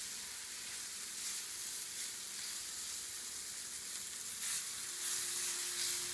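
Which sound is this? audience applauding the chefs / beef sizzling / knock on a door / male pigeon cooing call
beef sizzling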